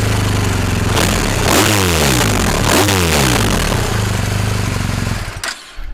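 A 2023 BMW R1250RS Triple Black motorcycle with chrome pipes idles with a close, steady throb, then revs twice in rising and falling sweeps before settling and cutting off near the end.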